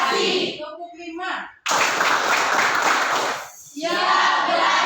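A classroom of pupils claps in unison during a numbered clap routine, a loud dense burst of many hands lasting a couple of seconds, bracketed by children's chanting and speech.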